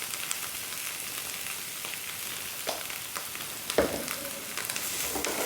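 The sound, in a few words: potatoes with spices frying in a pan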